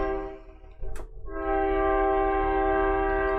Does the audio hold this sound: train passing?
yes